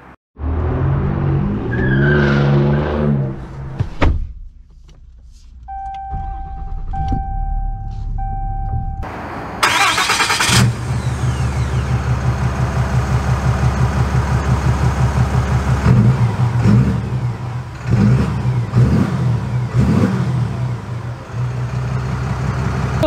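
2022 Ram 2500 Mega Cab Limited truck: brief cabin clicks and a tonal chime, then a sharp burst as the engine fires and settles into a steady rumbling drive with swelling engine surges, heard from inside.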